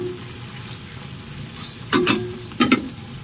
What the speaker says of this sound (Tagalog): Antayin na lang natin yan siya crispy